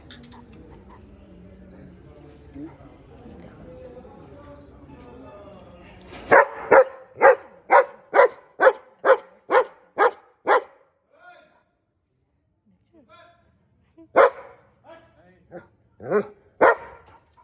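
A pet dog barks in a rapid burst of about ten loud, close barks, then a few more scattered barks after a pause, reacting to another dog in the distance, with someone talking quietly at the start.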